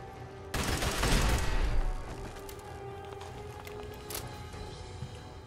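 A rapid volley of Institute pistol shots in the video game Fallout 4 cracks loudly and up close for about a second, then fades into a lower ambient hum with a few scattered faint clicks.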